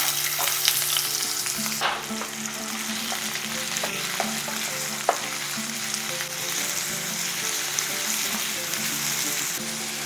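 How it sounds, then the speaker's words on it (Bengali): Thinly sliced onion fries in hot oil with cardamom and cloves, giving a loud, steady sizzle broken by a few sharp stirring knocks, with no talking. "ঠিক সেই সময় দিয়ে দিচ্ছি কুচি করে রাখা পেঁয়াজ।"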